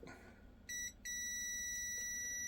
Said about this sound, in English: Let's check it with a multimeter. Do we get 3 ohms? Let's put it on beep.